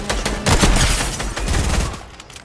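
Rapid-fire gun in a video game cracks out in dense, overlapping bursts that run nearly continuously, loud and close, then thin out toward the end.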